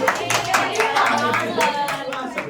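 Clapping for a guest on a podcast: a short burst of hand claps from a few people close by, mixed with brief voices and laughter.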